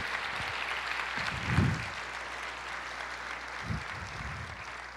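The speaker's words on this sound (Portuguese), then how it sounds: "Aplauda o Senhor, libere esse júbilo para Jesus" A church congregation claps in praise during an Easter service, a broad steady wash of applause with a few louder bursts of hand claps.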